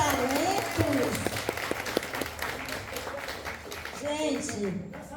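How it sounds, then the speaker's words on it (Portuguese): An audience in a small theatre applauds, a patter of claps rising and thinning as a voice talks over it. "eu acho que merece mais aplausos esses grandes talentos"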